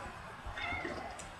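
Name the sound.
white cat meowing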